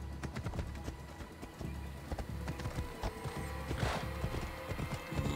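Steady rhythmic clip-clop of horse hooves in Assassin's Creed Odyssey, fairly close, with a brief whinny-like sound partway through over a low ambient drone.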